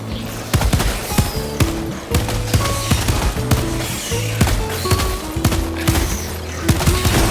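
Rapid bursts of automatic gunfire crackle steadily through a Helldivers 2 battle, layered with repeated sharp shots, impacts and occasional booms, loud and continuous without talk.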